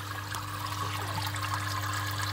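Water runs steadily into a home aquarium being filled, a continuous close trickling rush over a low steady hum, with no talking.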